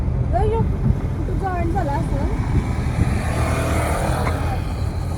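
A car driving along a one-way seaside road near Kashid beach in Alibaug gives a steady engine and road rumble inside the cabin, heard under continuous close talking.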